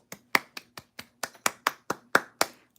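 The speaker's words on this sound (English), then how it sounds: "let's all give a round of applause" A small group clapping for a graduate's finished degree, about a dozen sharp, uneven claps over under three seconds, close and fairly loud, with no voices.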